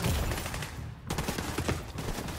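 Gunfire from a standard gun in the video game The Division 2, a sustained rattle of rapid shots with a brief lull midway before the firing resumes, loud and close.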